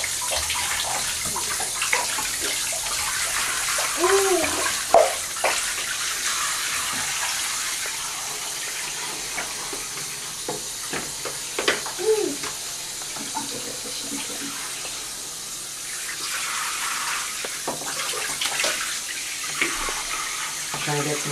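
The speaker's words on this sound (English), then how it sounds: "Trying to get some hot water in here." Hot water runs steadily from a tap into a bathtub, a continuous close splashing wash of sound with brief voices and small knocks over it.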